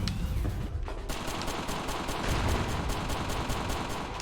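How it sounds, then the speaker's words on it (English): Rapid machine gun fire in the video game Action Ball 2, a dense burst of fast repeated shots that runs nearly unbroken for several seconds, loud and up close with no talk. "here is some machine gun stuff"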